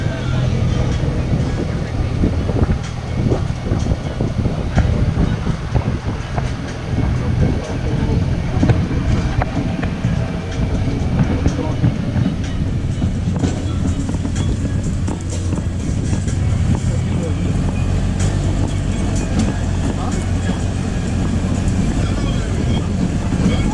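The open-air Disney Castaway Cay tram rolls along, its steady low engine rumble and road noise mixed with wind buffeting the microphone, loud and continuous, with faint voices in the background.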